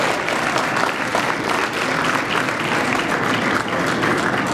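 Wedding guests applaud the bride and her father, a dense, steady wash of many hands clapping at close range, sustained evenly throughout.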